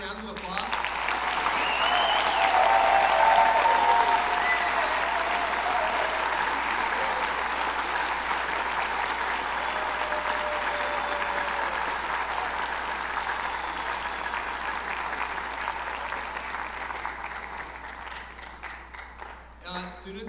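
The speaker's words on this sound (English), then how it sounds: "can we give everyone one last round of applause?" Long, even round of audience applause at a school awards and scholarship assembly, swelling early and then gradually fading toward the end, with faint voices beneath.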